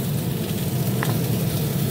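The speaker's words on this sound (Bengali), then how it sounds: "মাছ ভাজা চলছে।" Fish frying in a pan of hot oil, a steady close sizzle and crackle with a brief sharper spatter in the middle, no voices.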